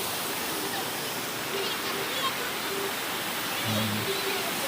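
Hilltop waterfall in the Javadhu Hills, a steady, even rush of falling water that fills the whole clip at moderate loudness with no clear breaks.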